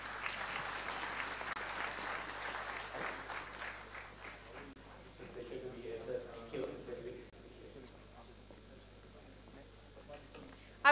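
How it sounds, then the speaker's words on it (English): An audience at an academia-industry interface session applauds a guest speaker from Cognizant Technology Solutions. Dense, steady clapping fills the room for about five seconds, then thins into scattered claps and low room murmur. "Let's hear it, please, with a big round of applause."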